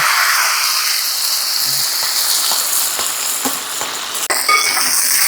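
Curry leaves, dried red chillies and small shallots hit hot coconut oil after mustard seeds have popped, tempering for an ash gourd curry; a steady, loud sizzling hiss with scattered light clinks of stirring throughout.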